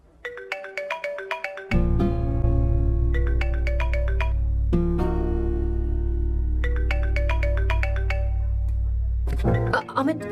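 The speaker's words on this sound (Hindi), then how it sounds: "फोन बजे ही जा रहा है" A mobile phone ringtone plays loudly and continuously, a repeating melodic pattern with a bass beat, cycling several times at close range in a Hindi action film scene.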